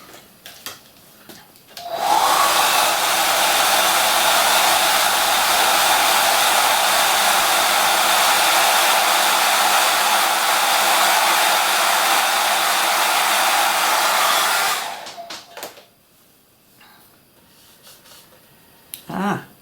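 A hair dryer blows on a painted colour wheel, switching on with a click and roaring loud and steady for about thirteen seconds before shutting off, followed by quiet handling noises.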